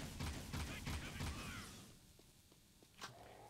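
Gunfire in the video game Jak II, a quick burst of rapid repeated shots followed by a few sparse clicks and one sharp report, with game sounds faintly under the fire.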